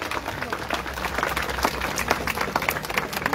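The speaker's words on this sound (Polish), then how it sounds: "wielkie brawa dla nas wszystkich za to" Applause and clapping from a rally crowd in Poznań, a steady dense wash of many hands over the full length with some scattered voices mixed in.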